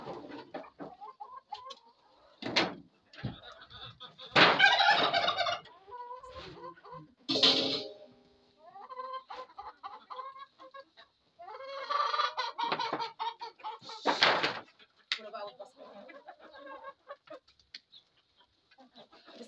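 Chickens cluck and call close by in short, irregular bursts separated by quiet gaps, with several louder squawks standing out among softer murmuring clucks.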